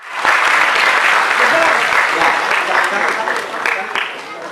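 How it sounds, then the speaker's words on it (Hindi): An audience at a charity event gives a burst of loud, sustained applause that starts suddenly and carries on for several seconds, with some voices underneath. "जोरदार तालियां"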